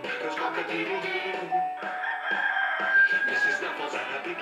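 Cartoon rooster on a barn farm crowing, a drawn-out, wavering cock-a-doodle-doo with layered tonal cries and a few clucks, loud and close, with no talking over it.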